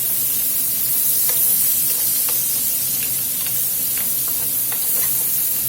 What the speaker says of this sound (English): Now this onion's going to start sweating and it'll bust that fond up.